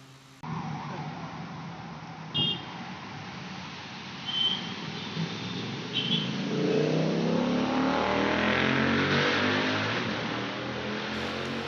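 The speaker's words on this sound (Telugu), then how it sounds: "స్కూటీది కాదు, పక్కన బైక్ వెళ్ళిన సౌండ్." A motorbike passing close beside an electric scooter on a test ride, its engine rising into a loud revving roar that swells and holds, heard over steady road and wind noise.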